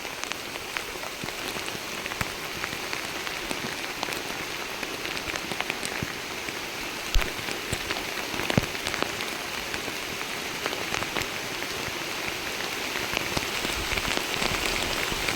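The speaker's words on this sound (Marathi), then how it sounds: "जोरदार पाऊस आला आहे" Heavy rain pours steadily on a farm field, a dense constant patter with occasional louder drops, no voices.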